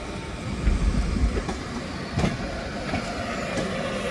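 A Class 82 locomotive train moving through Manchester Piccadilly station, a rumbling rail roll with rhythmic clickety-clack wheel beats and brief metallic knocks, moderately loud and continuous with no talk.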